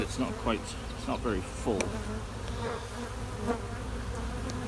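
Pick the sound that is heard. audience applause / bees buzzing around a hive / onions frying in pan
bees buzzing around a hive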